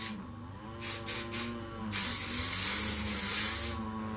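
Aerosol spray hisses over a pedal board and the surrounding workbench, three short bursts followed by one long continuous spray, close and fairly loud with no talk.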